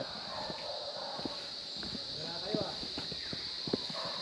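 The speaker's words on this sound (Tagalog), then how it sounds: "Ano to? Donkey." Donkey hooves clop slowly on hard ground under a constant background hiss, with people talking nearby.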